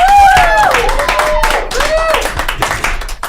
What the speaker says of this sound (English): Give a round of applause for Jason.